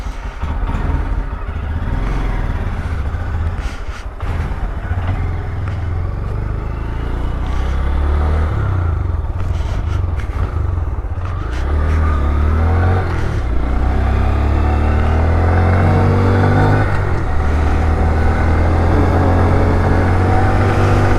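A 2022 Honda Grom engine with stock exhaust runs close and loud, revving up and down through gears with a buzzy, rasping exhaust note and some rattle.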